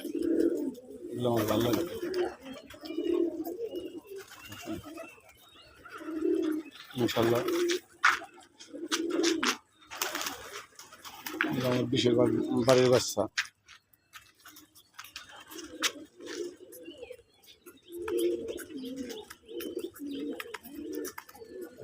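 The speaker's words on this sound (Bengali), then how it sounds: "এখন দেখার কবুতর ডাক" Local pigeons coo at a home pigeon farm, their soft low repeated calls coming close and clear in several rhythmic runs, partly under someone talking and alone toward the end.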